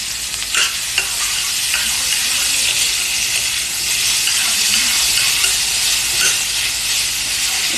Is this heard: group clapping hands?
no